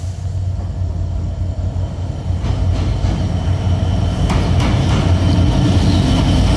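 The Khulna-bound Chitra Express intercity train enters the Mouchak loop, a loud, building rumble of engine and rolling wagons with faint clickety-clack of wheels on rails, heard close and without talk.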